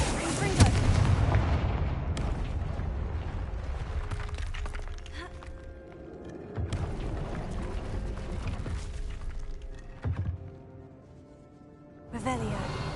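Confringo explosive spell bursts in the Hogwarts video game, loud booming blasts and crackling impacts over dense game sound, with several sharp hits and rumbling tails across the stretch.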